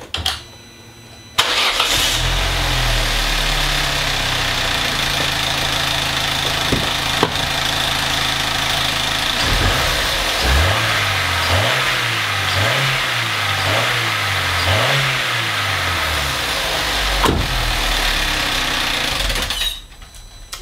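A car engine cranks and fires up, then settles into a steady idle with a rhythmic, uneven mechanical chatter from a warm timing chain, loud and close with no talk over it.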